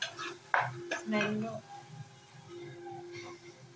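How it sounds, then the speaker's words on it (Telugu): Masala frying in a pan for chicken curry is stirred with a utensil that scrapes and clinks against the metal under a soft sizzle, while a person talks over it. "పచ్చి వాసన పోయేంత వరకు వేయించుకోవాలి."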